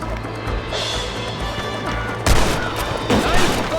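Enemy gunfire from atop a cliff in the Western video game Red Dead Redemption: a busy battle bed with loud bursts of shots near the end, set against steady game noise and music.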